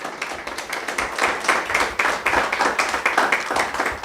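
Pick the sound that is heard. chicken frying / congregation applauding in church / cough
congregation applauding in church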